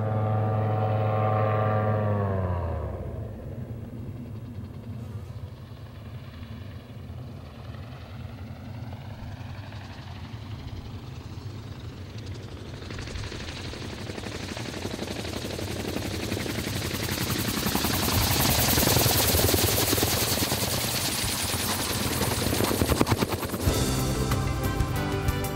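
Groen Brothers SparrowHawk gyroplane flying in autorotation, a steady loud propeller-driven engine drone with rotor whir that swells and grows brighter toward the end, with no talking.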